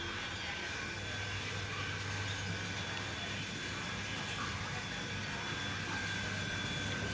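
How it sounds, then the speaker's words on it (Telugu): A water pump motor runs steadily in the background while water fills a tank at a live fish shop, giving a constant loud, even hum with broad noise and no breaks. "బ్యాక్గ్రౌండ్లో మోటార్ సౌండ్ ఎక్కువ వస్తుందండి."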